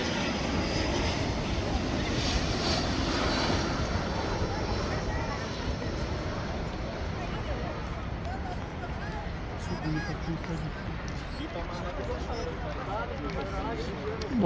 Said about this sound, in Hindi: कोई जहाज़ यहाँ से गया है।